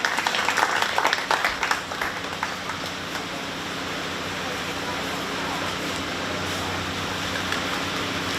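A crowd applauds the showmen at a 4-H cattle show at the 2022 Shelby County Fair, with dense, continuous clapping that is slightly louder at first and then settles into a steady wash of sound.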